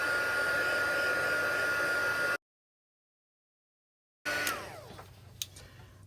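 A heat embossing tool dries embossing powder on a handmade greeting card, whirring loud and steady for about two seconds. Then a break, and the blower returns and winds down with faint clicks.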